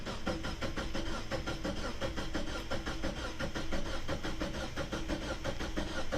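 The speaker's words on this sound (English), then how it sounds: "Now you can crank the engine and it won't start." A Mazda Miata engine cranks over on the starter with the fuel pump and injector fuse pulled, so it does not fire. The rapid, even churning continues steadily and fairly loud for the whole stretch, with no voices.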